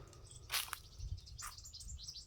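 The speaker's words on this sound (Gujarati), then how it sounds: "પક્ષીઓ કેવો બોલે વાડી આવીને પહેલાં તો ભાઈ પક્ષીનો અવાજ આવે ને એવો" Faint, scattered bird chirps and tweets sound in the distance over a quiet evening farm hush, with a low background hum.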